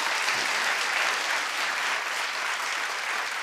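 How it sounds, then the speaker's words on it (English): A studio crew claps on a daytime talk show set, steady dense applause filling the room with no voices over it. "me and the crew, we're clapping"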